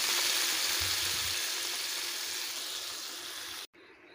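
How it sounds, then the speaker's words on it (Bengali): Water hits hot masala for an egg and potato curry (dimer jhol), producing a loud, dense sizzling hiss that fades slightly before cutting off abruptly near the end. "আমার এবারে ভালোভাবে কষে নেওয়া হয়ে গেছে, দিয়ে দেব জল।"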